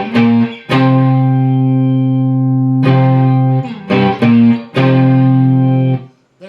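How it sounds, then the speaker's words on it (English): Overdriven electric guitar plays octave phrases from a song intro: loud sustained paired notes broken into several separate phrases with short gaps, alone with no talk. "So the second guitar is doing octaves."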